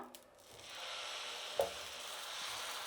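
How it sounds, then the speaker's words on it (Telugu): Dosa batter for masala dosa hits a hot pan and settles into a steady sizzle that swells after the first half second, with a single small clink of a ladle partway through. "ఇప్పుడు దోశ వేసుకుందాం."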